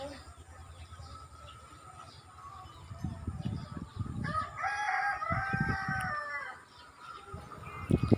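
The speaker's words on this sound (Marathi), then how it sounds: "ऐकलं ना, कोंबडा ओरडलेला आता" A rooster crows once in a long wavering call at middle distance, heard over outdoor background noise and some nearby talk.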